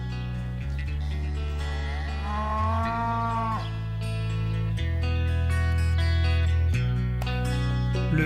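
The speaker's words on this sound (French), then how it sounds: "il élève des vaches, normandes bien sûr" Normandy cattle on a farm in the Pays de Caux moo loudly and repeatedly, with long, deep calls overlapping one another at close range.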